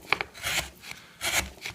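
A chisel shaves wood with slicing cuts in a mortise in thin stock, giving soft, close rasping strokes in two quick pairs separated by a brief pause.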